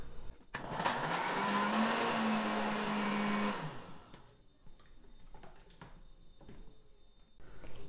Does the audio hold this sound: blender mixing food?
yes